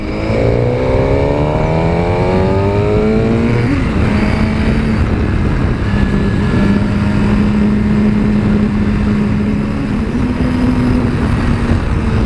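A 2017 Suzuki GSX-R1000 sportbike accelerating hard, the engine note climbing steeply through a gear, then a shift and a sustained loud high-revving howl heard close up.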